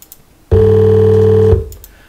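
A composite tone built in Audacity from two slightly different frequencies near 440 Hz, sounding as one loud, steady, buzzy beating tone lasting about a second before cutting off.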